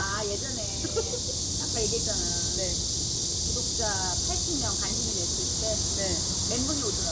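Cicadas drone outside in a steady, high-pitched buzz that runs unbroken through the whole stretch, sitting beneath an ongoing conversation between two people.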